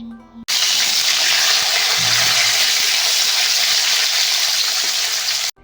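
Potatoes, radish and beans fry in a pan with a loud, steady sizzle that starts suddenly after a brief quiet moment and keeps going without a break, with faint scraping from stirring underneath.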